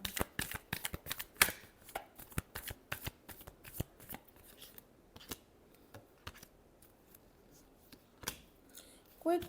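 Tarot cards are shuffled close by, with a quick series of sharp riffling snaps that thin into sparser, scattered card slaps over several seconds.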